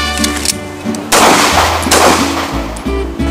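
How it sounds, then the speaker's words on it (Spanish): Gunfire erupts during a chase scene in a llanero drama: a loud, dense burst of shots lasting about a second and a half, set over dramatic music with deep bass notes that continue alone afterward. "Dispara, Rosendo, dispara"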